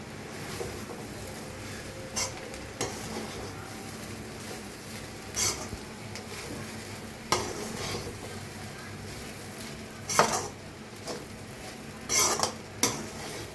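Fried rice with egg being stirred in a hot pan, with intermittent spoon scrapes and clinks against the metal over a low background sizzle, close and moderately loud.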